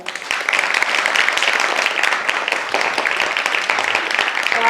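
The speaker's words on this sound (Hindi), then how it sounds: "एक बार चिल्ड्रंस थिएटर के लिए जोरदार तालियां।" An audience gives strong applause for a children's theatre group after their performance. Dense, continuous clapping runs at full volume for the whole stretch.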